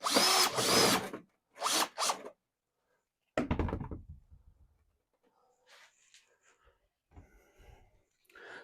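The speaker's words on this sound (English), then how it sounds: "What you're going to do is you're going to drill a hole." A power drill whirs in two short bursts, then a louder, longer burst that winds down, followed by faint handling noises.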